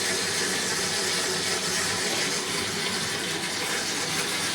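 Water runs steadily from a tap to rinse developing equipment for 35mm film, a loud, continuous rushing hiss that stays even throughout, with no voices over it.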